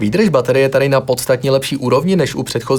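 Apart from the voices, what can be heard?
No distinct noise like a dog, phone or traffic.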